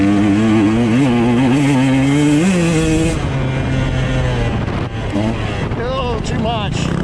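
A Husqvarna TE 150 dirt bike engine racing in a hare scramble at Dade City, a loud, close, revving two-stroke whine rising and falling with gear changes, buffeted by wind noise on the helmet microphone.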